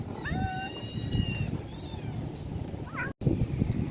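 Stray cats and kittens meowing outdoors on the Al Khobar Corniche, several high plaintive cries close by over wind and background noise, followed by more calls after a brief break.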